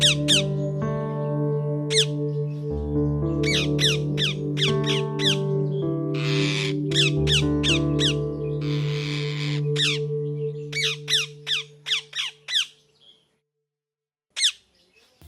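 A parrot in a Tamil children's cartoon lets out a rapid series of sharp, high squawks in bursts over a sustained musical backdrop, ending with a few isolated calls after the music fades.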